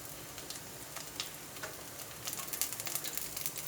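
Garlic and fennel seeds sizzle faintly in hot oil in a pan for a Kerala egg roast, a soft crackling hiss with scattered pops that grow a little busier toward the end.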